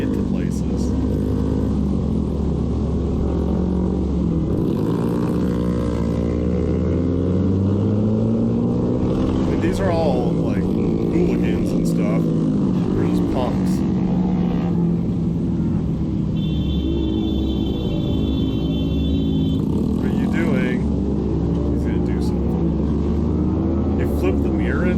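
A group of motorcycles rides along a roadway, engines rumbling and revving steadily under loud, near-continuous talking, with occasional louder throttle bursts.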